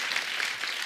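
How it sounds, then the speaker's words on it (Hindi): Studio audience applause on a Hindi comedy talk show, a dense steady wash of clapping lasting under a second with no pauses and no voices over it. "एक बार जोरदार तालियां हो जाएं"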